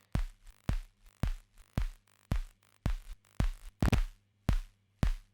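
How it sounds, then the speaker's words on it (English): A crackling, noisy kick drum sample from an Ableton project hits in a steady pulse of about ten punchy, booming thumps, with a squealy tonal layer and gritty noise riding on top. "One of the files in the batch he sent is just kick and squealy sounding thing here."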